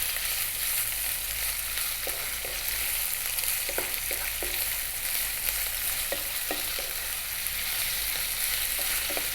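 Long strips of ribeye steak fry in a hot pan with a dense, steady sizzle, broken by scattered scraping clicks of constant stirring, close and alone.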